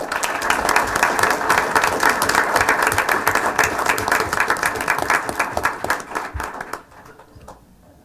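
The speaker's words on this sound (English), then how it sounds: "So I just want to, give another round of applause" Audience applause fills a school board meeting room, a steady dense clatter of many hands for about seven seconds before tapering off to near quiet at the end.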